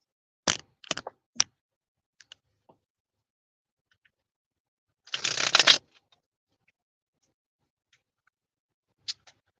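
Triple Goddess Tarot cards shuffled in two short bursts, a quick riffle of several crisp flutters followed by a longer, denser riffle, with quiet taps between and no talking.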